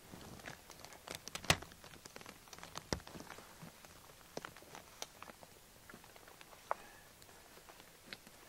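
Faint, sparse rain patters and drips on a late-fall forest A-frame shelter of birch bark and evergreen boughs, scattered irregular taps with the occasional crinkle, quiet and close.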